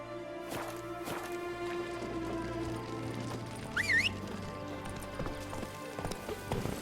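Roach, Geralt's horse in The Witcher 3, with steady clip-clop hoofbeats over a low ambient music bed and a brief whinny partway through.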